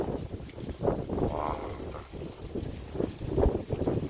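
Strong wind gusting across a harbor where fishing boats sit moored, a steady roaring rush with buffeting on the microphone and no voices.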